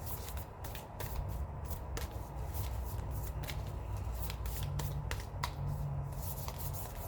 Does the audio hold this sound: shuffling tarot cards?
yes